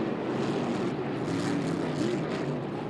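Racing boat Exécutif 5, driven by Daniel Brossoit, roars through a qualifying heat at the 1990 Valleyfield regatta Grand Prix, its engine a constant loud, droning buzz that holds steady and slightly distant without pause.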